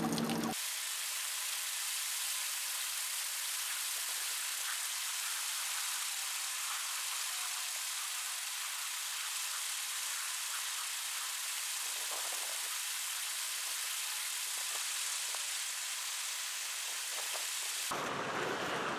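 Steady, dense rain hisses continuously for a long stretch at a boat ramp, an even wash of noise with no voices.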